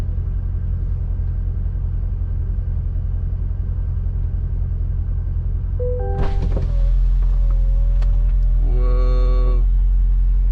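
The folding roof of a 2021 Chevy C8 Corvette convertible opens with a series of mechanical whirs and rising motor tones over the low idle rumble of the engine, close and fairly loud.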